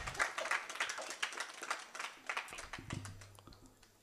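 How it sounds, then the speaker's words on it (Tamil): Clapping from an audience after a spiritual talk on Bhairava Shakthi on Shivaratri, a fairly sparse run of individual claps rather than a dense roar, with a low hum entering toward the end. "அதனால் உங்களுக்கு நீங்கள் ஒரு பலத்த கரகோஷம் எழுப்பிக் கொள்ளலாம்"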